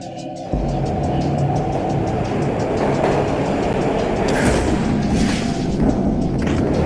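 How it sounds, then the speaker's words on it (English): Steady, loud rumble of a moving train in the video game Max Payne, with rhythmic rail clatter and occasional thumps, continuing without pause. "This was my second train ride of the night."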